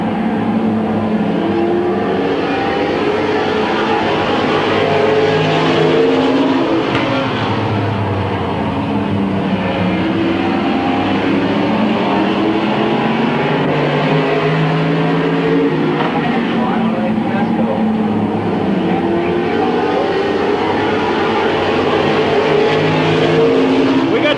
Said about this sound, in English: Good tight racing back in the back between Kenny Carroll, Mario Diano, and Ryan Tedesco out there